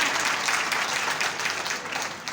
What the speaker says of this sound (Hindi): जोरदार तालियां हो जाए आप सबके लिए एक बार